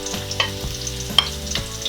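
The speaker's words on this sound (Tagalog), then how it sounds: "Mainit na po ngayon ang ating mantika, so pwede na nating igisa itong ating bawang." Garlic sautés in hot cooking oil for humba, a steady close sizzle and crackle with a few brief stirring clatters, while a soft tonal backdrop hums underneath.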